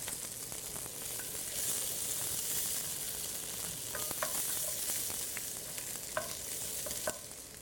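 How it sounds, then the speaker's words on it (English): Zucchini, garlic and other vegetables sauté in a hot pan, giving a steady close sizzle with occasional clinks and scrapes of stirring and no talk. "So now we're going to get our zucchini in."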